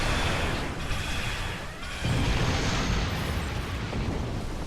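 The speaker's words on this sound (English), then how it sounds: "Beam overload. And fire." In the game Star Trek Online, a starship fires a beam overload weapon and it explodes in a loud, continuous roaring burst that dips briefly, then surges back and rumbles on to the end.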